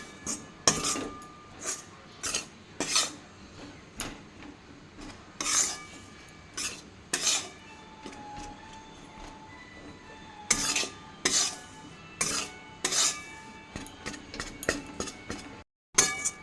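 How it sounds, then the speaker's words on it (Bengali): A utensil stirs gram flour in a pan over low heat while making modak, giving repeated scraping strokes and light metallic clinks against the pan in an uneven rhythm, close and moderately loud, with no talking. "বেসনটা নাড়াচাড়া করতে করতে"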